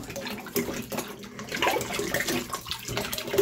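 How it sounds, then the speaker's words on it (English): Wine bottles rinsed under running water, a steady loud splashing and gushing stream with sloshing and clinks of glass, close by and without speech. "The only thing remaining for these bottles now is to be rinsed off."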